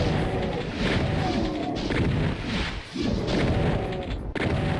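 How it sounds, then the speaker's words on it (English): A shotgun fires in the classic game Doom on level E4M2, Perfect Hatred: loud, crunchy blasts crowd together over continuous chaotic combat noise, with hardly a pause between them. "Long, slow whittling down of their HP with a shotgun."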